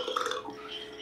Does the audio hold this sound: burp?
yes